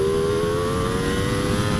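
A Ducati Panigale V4 SP2 sport motorcycle engine holds a steady high-revving tone at close range, loud and continuous with no voices over it.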